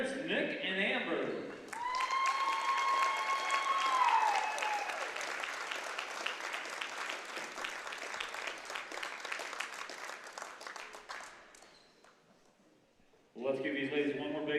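A gym crowd at a girls' high school basketball game applauds a player and her parents. Steady clapping with cheers and a brief whistle builds, then tapers off, with announcer speech just before and just after it.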